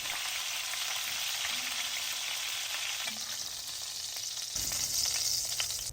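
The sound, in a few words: short ribs searing in oil in a Dutch oven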